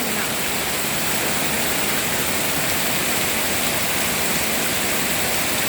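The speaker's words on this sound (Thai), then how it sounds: "โอ้ยน้ำไหลแห้ง" Steady, dense rush of falling rain and running water, loud and continuous with no pauses or voices.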